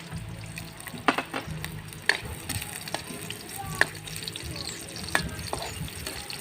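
Sliced garlic, ginger and onion sizzling in a hot pan, a steady close frying hiss broken by sharp scraping clicks of a spatula stirring, with no talk.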